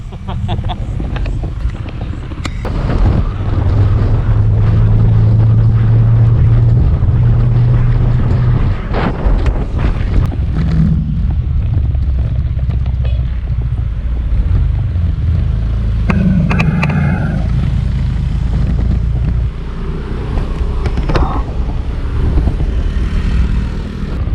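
A motorcycle rides along at night in the Philippines with steady engine rumble under heavy, constant wind buffeting on the microphone, loud and continuous throughout.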